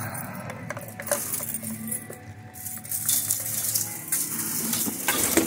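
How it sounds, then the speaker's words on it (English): Keys jangle and clink as a shop security gate is unlocked one-handed, with metallic rattles and scraping throughout, fairly close. "we're gonna try and unlock my gate one-handed"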